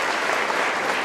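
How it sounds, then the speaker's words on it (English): Steady, dense applause from an audience at an evening justice-themed gathering, honoring the nonprofit newsroom MinPost; the clapping fills the moment loudly and evenly without a break. "Yeah, round of applause, MinPost."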